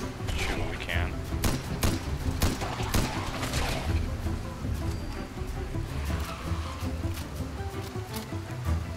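Gunfire aimed at a ghoul in Fallout 4, a scattered series of sharp shots and thuds spread through the clip at moderate loudness, mixed with background game noise and a speaking voice.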